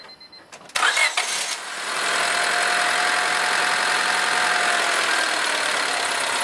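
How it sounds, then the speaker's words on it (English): A car engine fitted with a hydrogen bubbler cranks briefly with a few loud churns, catches, and settles into a steady, even idle. "I'll turn this ignition over"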